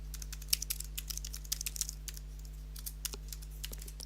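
Rapid, uneven clicking of a computer keyboard as a password is entered to log in to a Banana Pi running OpenMediaVault, close and crisp over a steady low electrical hum, no talking.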